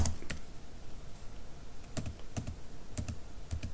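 Typing on a computer keyboard: a few quiet key clicks come in short irregular clusters over a faint hiss, with no voice.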